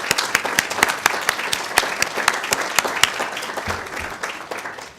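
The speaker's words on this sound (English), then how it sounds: "So please give yourself a round of applause." Audience applause at a luncheon, sharp individual claps standing out over a steady wash of hands, sustained for several seconds at close range.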